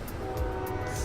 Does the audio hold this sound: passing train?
yes